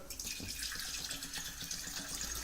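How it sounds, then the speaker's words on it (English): Water pours into a bowl being readied for an orchid, a soft continuous splashing trickle with light burbling, close and fairly quiet with no talking. "get our bowl, our new container, and then put in our water."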